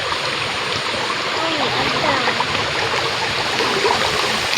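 A village creek flows steadily with a constant broadband wash of running water, near and fairly loud, with faint voices speaking underneath.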